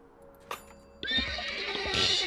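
A horse whinnies in the video game Tesla Effect, a bright, wavering neigh rising and holding over a second and a half after a couple of short clicks, fairly close and clear with no talking.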